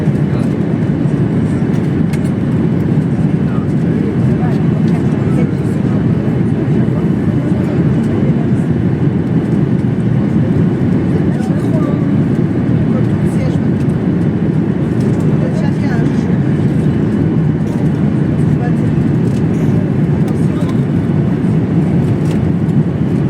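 An airplane descends to land at Charleroi airport, its engines a steady loud rumble and roar heard from inside the cabin throughout, with faint voices mixed in.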